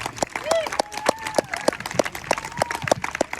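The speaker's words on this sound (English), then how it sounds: "Everybody give a big round of applause to this trio today" An audience at a summer fundraising concert applauds a violin and cello trio, with a scattering of distinct claps, fairly sparse and near, over some crowd murmur and voices.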